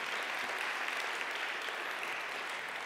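Congregation at a Korean church worship service applauding, a steady, even wash of clapping at low level with no voices over it throughout.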